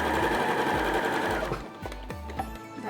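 A sewing machine stitches the back seams of a man's shirt being upcycled, a loud fast motorized whir with rhythmic needle thumps close by, easing off into slower separate stitches near the end.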